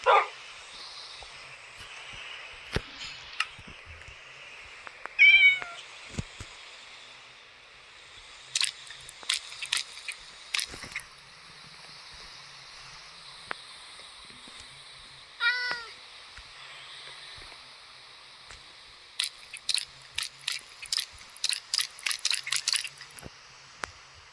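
Occasional short Minecraft cat meows, a few spread apart, mixed with sharp clicking sounds over a quiet background hum.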